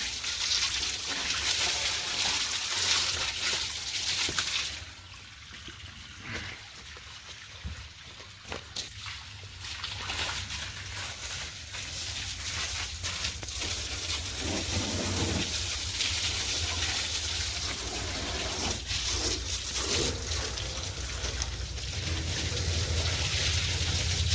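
Water is sprayed over a 3630 tractor during a wash, giving a steady, hissing splash that dips briefly after a loud start, then returns as a constant close spatter.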